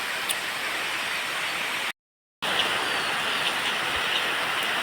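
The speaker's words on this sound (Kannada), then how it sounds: "ಜೋರು ಮಳೆ ಬರ್ತಾ ಉಂಟಲ್ಲ" Heavy rain pours down in a steady, dense broadband hiss that is loud and close, with a short cut to silence partway through before the downpour resumes unchanged.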